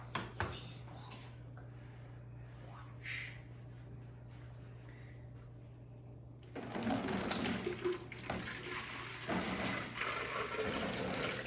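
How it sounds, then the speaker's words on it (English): Water pours into a bottle hung on a string in a model dam science project, turning it; after a quieter stretch a loud, sudden gushing rush starts and continues, with faint voices in the background. "This is because the water is rushing in. It's causing the bottle to turn"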